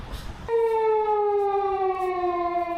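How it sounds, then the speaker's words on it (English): A loud siren sounds on a street in Hiroshima. It starts abruptly and holds as a steady, slowly falling wail for more than two seconds, clear above the faint street noise. "I heard really loud sirens"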